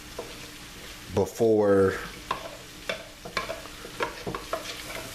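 Cornstarch and broth being stirred in a pan for smothered pork chop gravy, soft scraping stirs and light sizzle punctuated by short clicks, with a brief spoken word and a tonal squeak early on.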